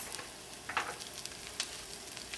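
Onion frying in a pan for pork fried rice gives a faint, steady sizzle with a couple of brief crackles and stir sounds, no voices.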